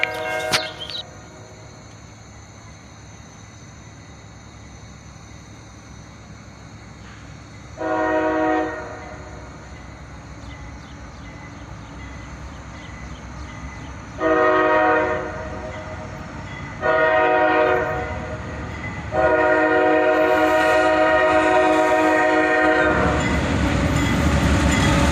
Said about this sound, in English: A Dash 8 leads the train, followed by an ES44